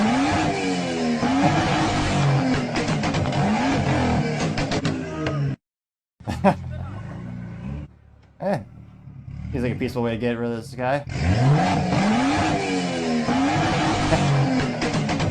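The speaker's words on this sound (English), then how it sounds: "that is a beautiful sound of an internal combustion engine" Loud BMW engine revving in drawn-out surges through the exhaust, with a person talking over it; the roar drops out briefly partway through, then returns at full volume.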